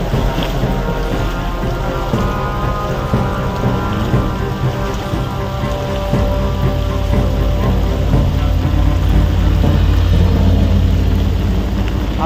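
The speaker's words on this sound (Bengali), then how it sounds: "এখনো অনবরত বৃষ্টি পড়ছে, দেখতে পাচ্ছেন সে সমানকালে বৃষ্টি পড়ছে।" Heavy rain falls without pause over Raniganj in West Bardhaman, a loud, dense, unbroken roar of drops drumming on surfaces for the whole stretch.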